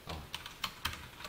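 Quiet, separate clicks of Ctrl+Shift and arrow keys being pressed on a computer keyboard, about five soft taps spread unevenly over a short stretch, with no talking.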